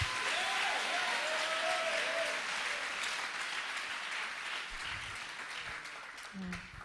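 A church congregation at a French-language worship service breaks into sustained applause, a dense wash of clapping that slowly thins out, with voices mixed in.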